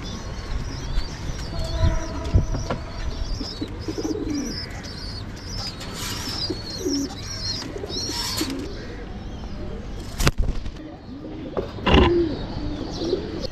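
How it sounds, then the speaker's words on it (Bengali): Pigeons coo repeatedly over a busy outdoor backdrop of chirping birds while being fed, with a few sharp nearby knocks and rustles breaking in. "বাইরে থেকে আরও অনেক সুন্দর সুন্দর কবুতর আসে, এসে খেয়ে তারপর চলে যায় আবার।"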